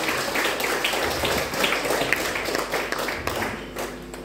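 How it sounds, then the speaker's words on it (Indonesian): An audience claps steadily for several seconds at a church Christmas service, a dense patter of many hands at moderate distance, with no talking over it. "Mari kita beri tepuk tangan yang meriah."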